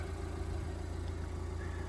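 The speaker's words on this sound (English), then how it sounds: "So as you can hear, the engine's on." A vehicle engine idling with an alternator charger running, a steady low hum with a constant even drone, fairly quiet and alone without speech.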